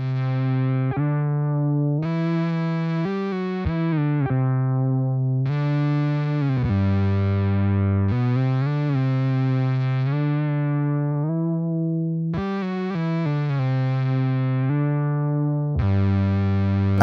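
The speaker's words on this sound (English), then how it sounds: "Third, we got the string theory, which sounds like this." Bass guitar run through a Line 6 HX One String Theory effect, sustained distorted, harmonically rich notes ringing out one after another in a steady phrase, loud and close with no talking.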